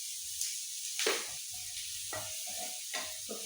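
Onions frying with salt in a pan for a simple onion curry, a faint, steady sizzle broken by a few brief stirring scrapes, heard alone without talk.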